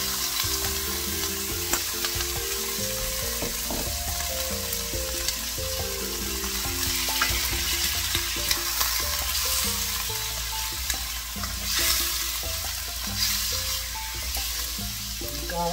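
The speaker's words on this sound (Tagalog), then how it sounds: "igigisa ko na itong pork na hiniwang maliliit pang gisa" Small pieces of pork sauté in hot oil, giving a steady, close sizzle and crackle with stirring clatter running throughout and no talk.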